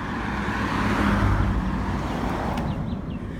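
A bus with a Jamaican flag on its roof approaching along a road in Jamaica, a steady low engine rumble swelling to a broad roadway roar, loud and close, with no talking.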